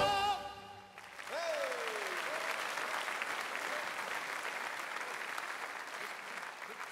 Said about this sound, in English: Come on, give the Lord a clap offering tonight.